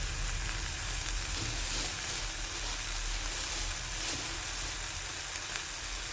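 Pizza topping sizzles steadily in a hot pan as chili flakes are stirred in, a continuous close frying hiss with no voices.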